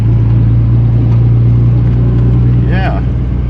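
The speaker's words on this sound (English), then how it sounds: "You can hear my truck lugging a little bit." A pickup truck engine drones loudly and low, lugging steadily under strain uphill in winter, with a brief higher-pitched sound near the end.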